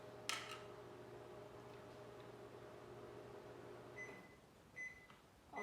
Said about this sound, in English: Also our broccoli is microwaving.